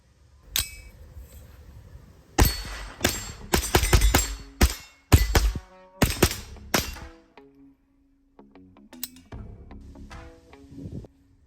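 A JP-15 Ultralite .22 rifle firing Mini Mag ammunition at an outdoor range: sharp cracking shots, some in quick strings and some spaced out, followed by quieter clinks and metallic handling noises near the end.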